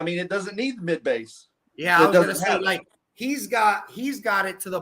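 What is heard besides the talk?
None of the usual background noises is heard.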